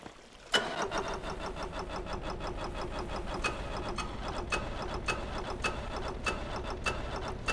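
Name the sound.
model engines spinning up through gearbox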